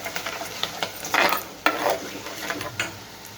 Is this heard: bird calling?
no